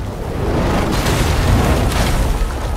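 Heavy catapult fireballs burst in the video game For Honor, a deep rumbling boom that swells and rolls on with low, sustained roar and a second blast near the end, loud and close.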